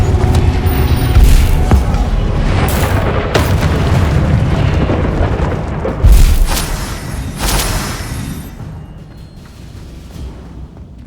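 Confringo blasting spell explosions in the game Hogwarts Legacy, loud booming blasts and crackling bursts in a dense battle, with a heavy hit near the middle before the noise fades toward the end.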